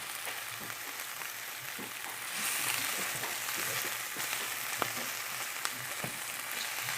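Coconut oil sizzles in a pan with pepper, pimento seeds and garlic for Jamaican steam fish, a steady, fairly quiet frying crackle with scattered pops.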